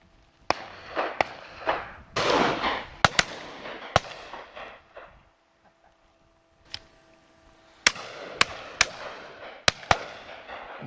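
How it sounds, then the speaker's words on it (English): Shotgun shots fired at partridge and pheasant on a driven game shoot outdoors: about a dozen sharp, loud reports, some close together and some spaced apart, with echoing tails and a quiet gap in the middle. "Oh, nice partridge shot there."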